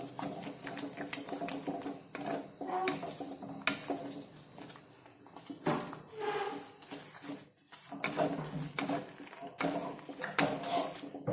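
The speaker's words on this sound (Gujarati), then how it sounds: "આ રીતે ધીરે ધીરે આપણે હલાવશું અને એડ કરીશું." Raw potato snack dough being stirred in a pan over a low gas flame, with a utensil clattering and scraping against the metal in uneven, busy bursts throughout.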